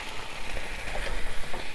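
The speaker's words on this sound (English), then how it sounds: "You can hear that sizzling up nice." Pasta sauce poured into a hot pan sizzles and crackles in a steady hiss, close by and continuous, with faint stirring textures and no speech over it.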